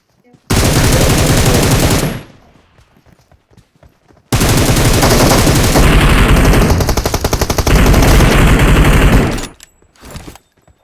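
Rapid automatic gunfire rings out in PUBG on the Erangel map, with a loud sustained burst, a pause, then a longer continuous volley and a short final spurt.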